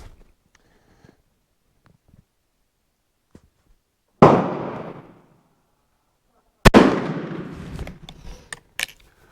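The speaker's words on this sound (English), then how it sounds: "I'm shooting to see if you can hear the delay." Two loud, sharp Martini-Henry rifle shots fired at 50 yards, a couple of seconds apart, each with a booming echoing tail, after near-silence broken by faint small clicks and handling noises.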